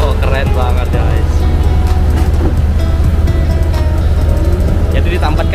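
A longboat motor on the Barito River drones loudly and steadily, with water rushing and splashing close by, the engine noise filling the whole stretch without a break.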